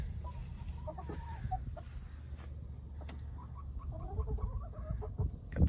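Hens in a coop on a chilly January farm day cluck softly in scattered bursts, close and quiet over a low steady background hum, with no talking.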